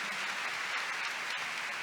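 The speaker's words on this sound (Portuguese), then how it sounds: "Vamos aplaudir o verbo de Deus que está no meio de nós." A church congregation claps together for the Word of God during a homily on the third day of the Siege of Jericho, with dense, steady applause from many hands filling the room without a break.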